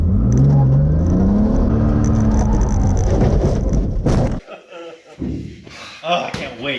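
A Honda Integra DB1 on its first track lap, engine loudly revving and climbing in pitch before cutting off abruptly, followed by quieter knocks and shuffling noises with a person talking.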